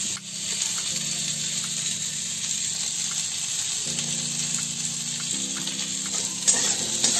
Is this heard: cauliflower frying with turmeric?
yes